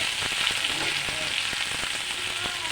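Food frying in hot oil, a dense, even sizzle up close with a few light stirring taps, no talk.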